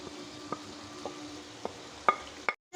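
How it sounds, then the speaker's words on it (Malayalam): Onions with garam masala, pepper, turmeric and coriander powders sautéing in a pan for chicken biryani: a soft steady sizzle broken by a handful of scraping stirs, several sharper near the end, then a brief drop to silence. "ഇത് നന്നായിട്ട് വഴറ്റി കൊടുക്കണം"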